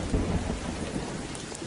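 Steady heavy rain with rolling thunder in a film scene, a dense continuous downpour with low rumbles throughout, no voices.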